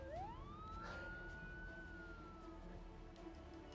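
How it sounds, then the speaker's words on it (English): A distant police siren rises in pitch and then holds a long, steady wail, faint beneath a constant low background hum. "I can hear sirens. Can anyone else hear sirens?"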